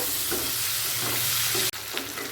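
Chopped tomato and capsicum frying in a pan over a medium flame for shahi paneer, making a dense, continuous sizzle and hiss up close, with a brief dropout midway.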